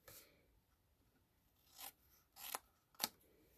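Scissors trim card paper during Easter treat crafting, with a few short, crisp snips coming close together toward the end after quiet rustling.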